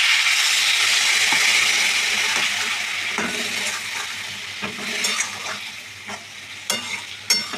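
Water poured into a hot pan of mango chutney sets off a loud, broad sizzle that slowly dies down, followed by a spoon stirring and scraping with occasional sharp clinks against the pan.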